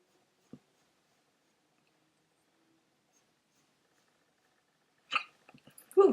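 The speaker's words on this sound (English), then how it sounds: "Ooh, hiccup." A single quiet hiccup from a person during a makeup routine, following a long stretch of near silence and a faint earlier click, with a few soft small sounds after it.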